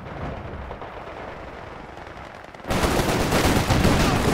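Battle gunfire in the Company of Heroes 3 video game: rapid machine-gun bursts and scattered shots over a rumbling backdrop, jumping abruptly louder and denser partway through.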